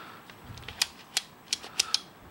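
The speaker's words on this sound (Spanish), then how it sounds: "Sonido de clic característico del squib" A Skewb twisty puzzle being turned gives a series of sharp, crisp plastic clicks, about six irregular snaps over a couple of seconds, close and alone against a faint background.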